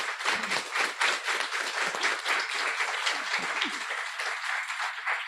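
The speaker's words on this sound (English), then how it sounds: "So a big round of applause for them" A graduation audience claps steadily for the trainers, a full, dense round of applause that holds at an even level for several seconds.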